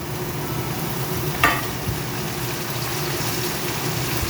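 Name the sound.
chopped tomato added to frying pan, sizzling and stirring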